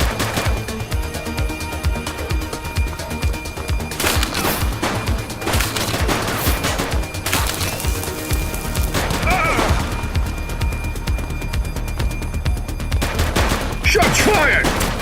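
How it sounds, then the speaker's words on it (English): Gunfire in The Precinct, a police video game, comes as scattered sharp shots and quick volleys, some near and loud, others softer, spread across a busy background with voices talking in between. "Shots fired!"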